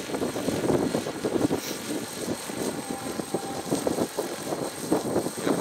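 A Procyon 800E helicopter flies nearby during a pre-delivery test, its rotor and engine producing a steady chopping, throbbing roar of moderate loudness with a faint high whine running through it.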